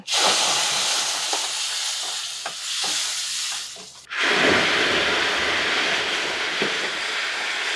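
Loud, steady sizzling hiss of water hitting a hot pan, surging sharply partway through and then continuing as a bubbling roar.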